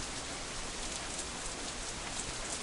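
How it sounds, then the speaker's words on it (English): Heavy rain from the Katawa Shoujo visual novel, a dense and even wash of pouring rain that stays constant and fairly quiet throughout, with no voices. "completely drowned out by an even heavier burst of rain"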